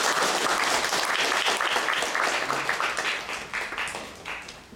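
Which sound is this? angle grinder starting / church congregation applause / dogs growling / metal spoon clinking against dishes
church congregation applause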